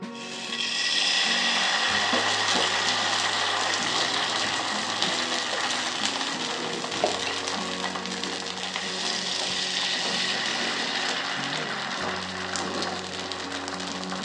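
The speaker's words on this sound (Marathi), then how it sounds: "तापलेल्या पॅनवर मी आता थोडे साजूक तूप टाकून घेते आहे." Ghee sizzles steadily on a hot pan, a broad continuous crackling hiss heard close up with a low hum underneath and no talking.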